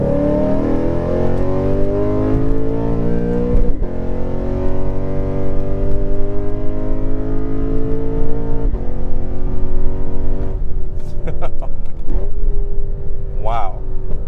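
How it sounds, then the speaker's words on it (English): A 2018 Lexus RC F with a 5-liter V8 accelerating hard, its loud exhaust climbing steadily in pitch through sustained pulls with brief drops between gear changes, close and continuous. "Wow, listen to that V8."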